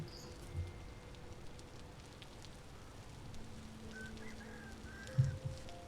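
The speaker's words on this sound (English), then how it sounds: "I wish this rain would go away, but we're kind of stuck with it" Steady rain hisses in the video game Vintage Story as an even wash of noise with faint tonal game sounds, a couple of soft thumps rising briefly above it near the end.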